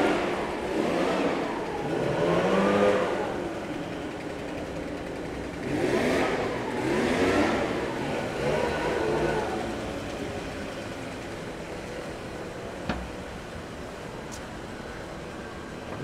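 Two leaf blowers run outdoors at a shopping district, giving a steady droning roar with rising and falling surges, moderately distant and without talk.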